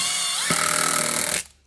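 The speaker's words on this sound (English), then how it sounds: "Stand it up and drill." A power drill bores into a wall stud while mounting DIY shelves, a loud steady whine that strains briefly as the bit bites in, then cuts off abruptly after about a second and a half.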